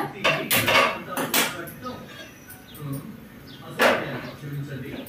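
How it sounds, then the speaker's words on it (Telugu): An iron griddle pan clanks onto a kitchen stove with sharp metallic knocks and rattles, a few close bright hits clustered early and another near the end, with a voice talking in between. "ఇప్పుడైతే పెనం పెట్టుకుందాం స్టవ్ మీద."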